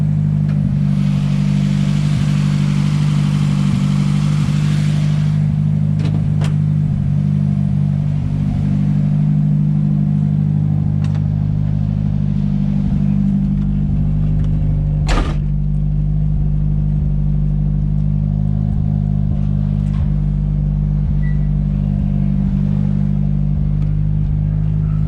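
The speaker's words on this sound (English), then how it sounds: "Hopefully y'all can hear me through my loud ass car." A loud car with a KA24DET engine drives, a heavy, constant low-pitched exhaust drone close up, with a brief sharp knock partway through.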